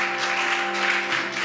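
A crowd claps steadily over a sustained humming tone, the applause dense and continuous throughout.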